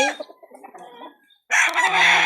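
An F1 bull stag straight Sweater gamecock, kept as a broodcock, gives a few soft clucks and then breaks into a loud, close crow that carries to the end.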